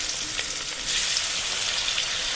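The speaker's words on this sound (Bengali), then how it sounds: "ঘি আর তেল একসাথে গরম করে নেওয়ার পরে দিয়ে দেবো পেঁয়াজ কুচি।" Chopped onions frying in hot ghee and oil for chicken biryani, a loud steady sizzle close by that swells as the onions hit the pan, with faint stirring.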